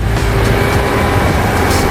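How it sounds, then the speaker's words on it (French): Fendt 942 tractor pulling a Kuhn seed drill combination with front hopper and rotary harrow, a steady loud low engine drone with continuous mechanical rumble, no voices. "Ce Fendt 942 tire un combiné de semis Kuhn de nouvelle génération, intégrant une trémie frontale et une herse rotative"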